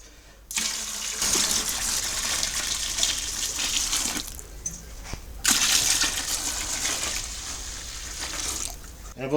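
Cold water gushes steadily from a tap into a brewing vessel for chocolate and vanilla stout, a loud continuous splashing rush with a brief break midway before the flow resumes.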